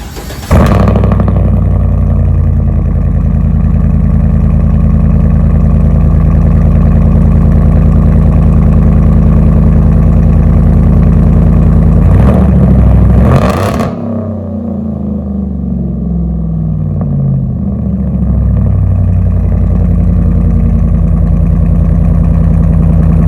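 Cold start and idle of a car engine with an exhaust leak, a loud steady rumbling idle running throughout, briefly dipping and changing tone midway before settling back to a constant close drone.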